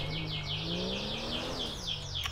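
Birds chirp repeatedly in GTA 5 gameplay, a steady run of bright, rapid tweets in an outdoor scene over a low ambient hum and distant engine-like rumble.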